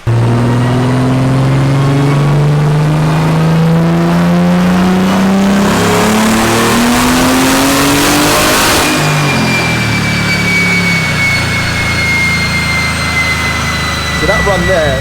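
BMW car engine revving hard on a dyno, a loud, close roar that climbs steadily in pitch, peaks, then drops away to a lower drone with a high whine lingering.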